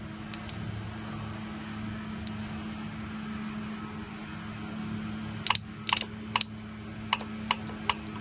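A/C compressor clutch on a 2006 Nissan Murano engaging and releasing, several sharp clicks spaced through the last few seconds over a steady engine idle hum.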